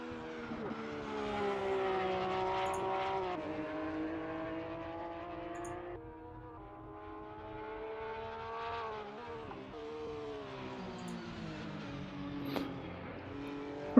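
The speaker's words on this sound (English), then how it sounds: "Meanwhile, a few more cars on track." Porsche 911 race cars lapping a track in a racing game, one engine droning steadily with rising and falling revs through gear changes, other cars faintly behind it.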